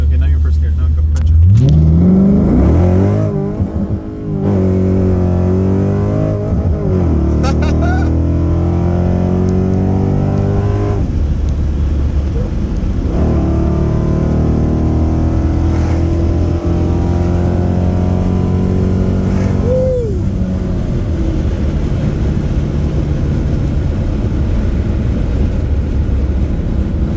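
An SRT car pulls away in first gear from the driver's seat, the engine note rising in a steady climb with harmonics sweeping up as it revs. Voices talk over the engine throughout.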